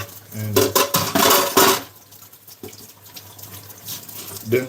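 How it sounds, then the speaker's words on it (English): Water running from a tap during rinsing in a home kitchen, a loud rushing stream for about two seconds that then drops to a quieter trickle with faint clatter. "Rinse that little stuff out right there too."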